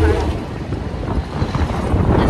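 Strong wind blowing on the Ganges riverbank, buffeting the microphone as a dense, continuous low roar throughout the short stretch.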